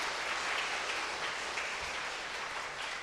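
A church congregation at a Sunday service applauds together, giving a dense, even wash of clapping that holds steady at moderate level throughout.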